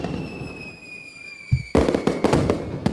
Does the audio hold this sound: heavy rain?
no